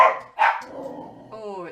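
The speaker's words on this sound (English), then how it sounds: "bear with me a second till we find out what's getting barked at" A dog barks twice in quick, loud, close succession indoors, followed by a higher whining yelp at the end.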